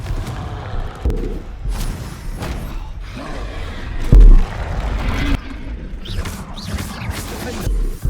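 Fiery Confringo spell blasts in the video game Hogwarts Legacy, several booming bursts with a heavy thud near the middle, mixed with combat effects and spoken spell calls.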